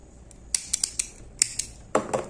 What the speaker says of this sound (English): Single crochet, chain one and cut the yarn.